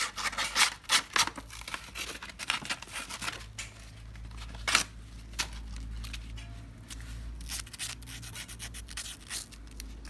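A spark plug from a Husqvarna 541RB grass cutter being scrubbed with sandpaper, giving close, dry scratchy strokes in an irregular rhythm over a low steady hum.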